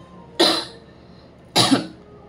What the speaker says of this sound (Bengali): এখনো কাশিটা অল্প অল্প রয়েছে,